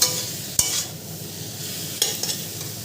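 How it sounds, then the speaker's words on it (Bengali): Spices with chili powder are sautéed in a pan, a soft steady sizzle broken by a few sharp spatula scrapes against the metal, close and fairly quiet. "একটু লঙ্কার গুঁড়ো সামান্য দিয়েছি দিয়ে এবারে কষাচ্ছি"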